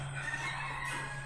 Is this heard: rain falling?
no